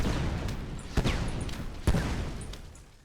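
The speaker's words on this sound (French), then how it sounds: "Les boules de feu ont un rayon quand même d'explosion assez grand, avec la classe pyromancien." Pyromancer fireball attacks in the game Spellbreak, two sharp explosive bursts about a second apart, each trailing a whooshing decay, over a constant noisy background.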